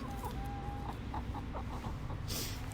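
Chickens cluck softly and repeatedly, with a thin whistling tone early on and a burst of rustling near the end, over steady outdoor background noise.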